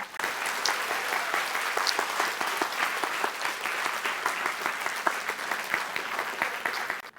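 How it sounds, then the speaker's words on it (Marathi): A large seminar audience claps loudly and continuously for about seven seconds. The applause is a dense, crackling wash of many hands, with individual sharper claps standing out now and then. "आणखी जोरात टाळ्या वाजवा स्वतःसाठी"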